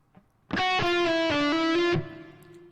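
An overdriven electric guitar plays a short blues-rock lick, a few sustained, bending notes ringing loudly before cutting off.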